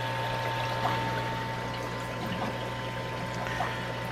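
Warm water pours steadily while a surface is scrubbed clean, a continuous close watery wash with a low steady hum beneath it.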